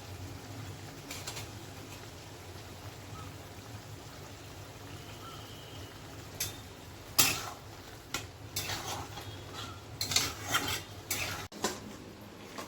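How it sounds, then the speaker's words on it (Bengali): Soybean curry being stirred with biryani masala in a pan, quiet scraping and clinking of utensil against metal with a low background hum, no voices. "আর এই সানরাইজের এই বিরিয়ানি মশলাটা দিয়ে এটা নেড়ে নিচ্ছি"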